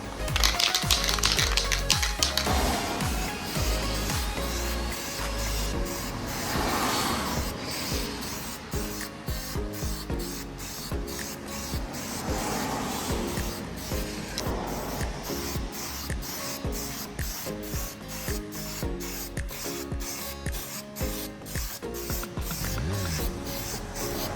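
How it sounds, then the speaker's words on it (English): A spray can or spray gun paints a boat trailer after welding and rust cleanup, its steady hiss continuous and close, broken by rapid rhythmic clicking and rattling throughout. "I also sprayed the back of the trailer as well and cleaned up the rust"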